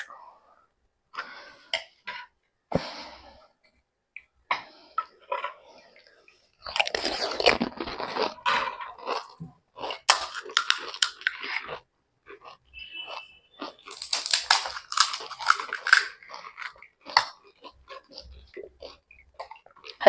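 Crisp panipuri is crunched and chewed close to the microphone in bursts of wet crackling, with short coughs and throat clearing between mouthfuls and pauses where it goes quiet.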